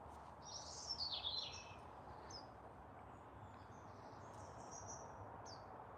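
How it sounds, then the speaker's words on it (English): Garden birds, including a nuthatch, give short bright chirps and calls at a moderate distance outdoors, a few scattered bursts over a soft background hum with faint insect-like ticking. "I keep hearing the nuthatch."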